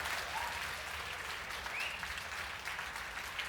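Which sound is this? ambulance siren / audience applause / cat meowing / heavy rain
audience applause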